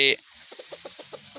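Backyard chickens, kept alongside ducks as village livestock, give a short series of soft, close clucks after a brief louder call at the start.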